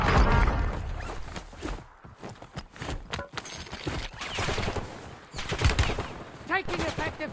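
Gunfire crackles through a Call of Duty: Warzone match as rapid automatic bursts and sharp single shots, loud and close, mixed with clattering movement and in-game voice callouts.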